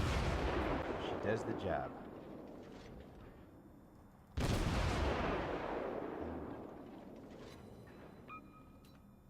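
Naval cannon fire in a warship video game, aboard the battleship Wyoming under enemy fire: two deep, booming blasts with long rumbling decay, the second louder, with someone talking faintly.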